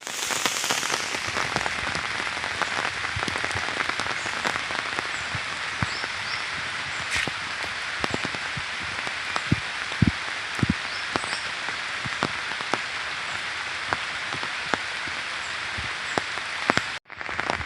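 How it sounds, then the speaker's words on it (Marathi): Evening monsoon rain falls steadily on a Konkan village in Ratnagiri, a dense, even hiss punctuated by sharp close drips and patters, with no voices. "जोरात असं गडगडते पण आहे आणि पाऊस पण पडतोय"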